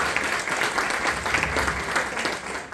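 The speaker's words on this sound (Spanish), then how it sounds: "Un gran aplauso para ella, por favor." A full round of applause from the audience at a book launch greeting a literary presenter, continuous and loud, with many hands clapping densely and evenly throughout.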